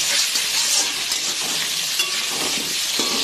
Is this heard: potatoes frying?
yes